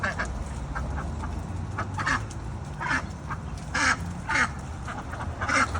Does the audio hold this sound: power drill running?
no